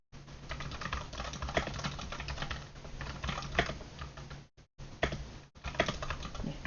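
Steady typing on a computer keyboard while entering text in a word-processing document, a continuous run of close, quiet key clicks with a couple of brief pauses and no talking.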